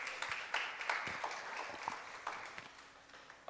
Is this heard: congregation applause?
yes